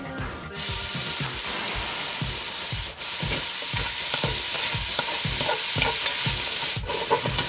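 Chopped onion hits a thin film of leftover rib fat and sizzles steadily for a meat sauce, with repeated scraping stirs of a spoon across the pan, close and loud, no talk.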